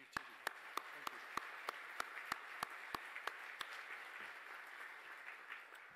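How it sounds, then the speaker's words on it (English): Audience at an inclusion breakfast applauds, with sharp, evenly spaced claps standing out near the front over a softer spread of crowd clapping that thins toward the end. "Let's give them another round of applause"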